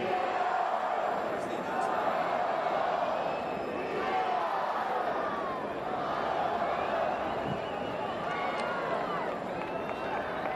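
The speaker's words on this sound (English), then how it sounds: "This crowd is into it." A football crowd in the stands at a Western Kentucky at Marshall game roars steadily for the whole stretch, a dense, continuous wash of cheering and shouting with no break in level.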